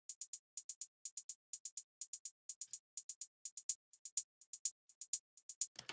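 A programmed trap beat in Ableton Live with velocity turned off: crisp, bright hi-hat ticks in quick triplet clusters, steady and dry, with nothing else underneath until a brief low thump at the end.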